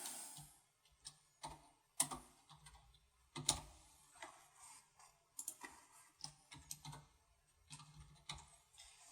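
Soft, irregular keystrokes and clicks on a computer keyboard as a material name is entered into simulation software, quiet and close with uneven pauses between taps.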